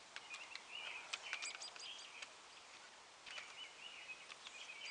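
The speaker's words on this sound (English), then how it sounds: "you can hear all the birds singing." Birds chirp and sing outdoors on a cold, windy morning near 1 degree, with faint, scattered bursts of short calls against a quiet background.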